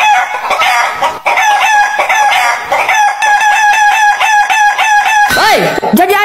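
Hens cluck busily and close by, with a rooster crowing loudly among them; no talking, just a lively chorus of fowl.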